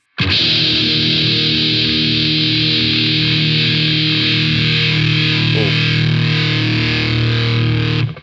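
A heavily distorted electric guitar chord through a Coolmusic Multiple pedal rings out loud and sustained, its fuzzy tone breaking up and wavering before cutting off.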